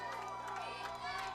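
Home crowd at a high school football game, West Branch versus Cardinal, roars loudly in a short continuous burst of cheering and shouting.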